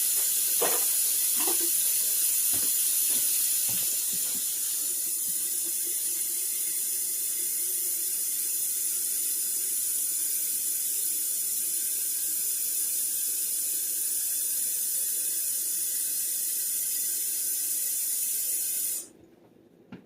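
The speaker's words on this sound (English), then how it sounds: "I'm going to put some warm water in there to get it started" Warm water runs steadily from a tap into a canning pot being filled for a water bath, a constant close hiss and splash for about nineteen seconds before cutting off.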